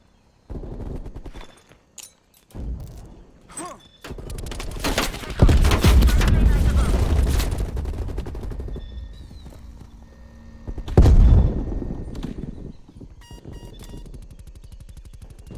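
Rapid bursts of video game gunfire crackle in short volleys with pauses between them, loud and close, alongside a mix of other game effects.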